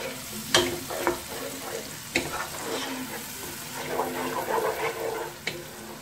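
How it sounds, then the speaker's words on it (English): Prawns sautéing in a pan for a prawn, mussel, white wine and tomato dish: a steady close sizzle and frying hiss with a few sharp clinks and stirring knocks, no talk. "now we just saute these nicely and give them a little bit of colour"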